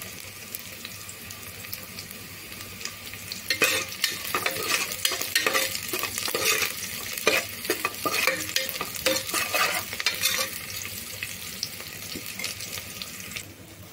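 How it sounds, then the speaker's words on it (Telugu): Onion pieces fry with cumin and cloves in a pan for egg biryani, a steady sizzle broken by a busy stretch of rapid stirring clatter and scraping, fairly close. "జీరా, లవంగాలు, మనం కట్ చేసి పెట్టుకున్న ఉల్లిపాయ ముక్కలు వేసి గోలనివ్వాలి."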